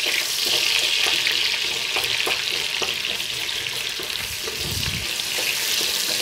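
Chicken fillet frying in hot oil in a cauldron for a noodle dish, a steady loud sizzle with occasional stirring clatter, close up and without talk.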